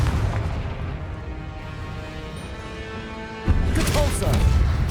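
In the video game Hogwarts Legacy, the Confringo spell lands with a sudden, heavy explosive boom amid ongoing battle noise, and the blast is followed by crackling debris.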